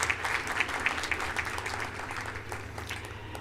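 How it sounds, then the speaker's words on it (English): A graduation ceremony audience applauding, dense steady clapping from many hands that fills the room at moderate loudness and fades slightly toward the end. "Yeah, you can clap."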